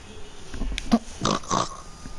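A few short nasal snorts and grunts in quick succession, close and fairly loud, imitating the cartoon pig Peppa Pig.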